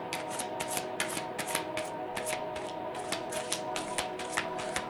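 Tarot cards are shuffled by hand in a quiet room, giving close, repeated riffling bursts in an uneven rhythm that continues alone for several seconds.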